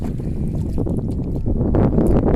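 A wooden boat rowed on a river, with a steady close wash of water and paddle churn under gusty wind noise, no voices.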